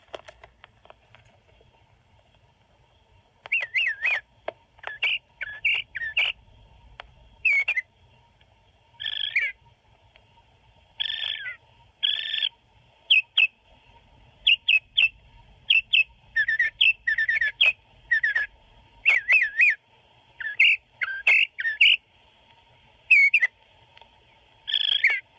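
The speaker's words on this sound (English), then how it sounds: "Mockingbird is a robin-sized gray bird with a long tail" An Audubon card player plays a mockingbird call at high volume: bursts of varied, repeated chirps and whistles come in irregular clusters over about twenty seconds against a faint steady hum.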